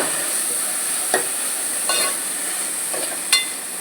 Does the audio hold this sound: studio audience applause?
no